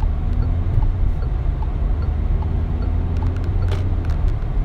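Peugeot 2008 GT SUV with a 1.5 diesel engine heard from inside while driving, a steady low rumble of engine and road noise with faint clicks, no talking.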